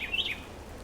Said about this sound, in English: All the birds are just starting to wake up, you know, and they start their little morning calls